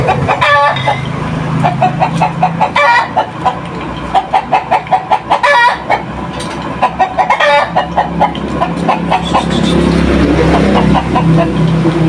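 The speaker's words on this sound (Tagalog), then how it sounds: "Maingay yung manok natin." Chickens cluck loudly and repeatedly at close range in a rapid staccato run, with a rooster crowing through the noise, near an outdoor stove burning used oil.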